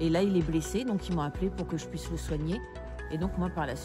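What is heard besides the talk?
No distinct noise like a dog, phone or traffic.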